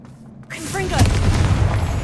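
A Confringo fire spell bursts in Hogwarts Legacy inside a rune cavern, a sudden booming blast at about half a second followed by a sustained rumbling roar, with a voice and game music mixed over it.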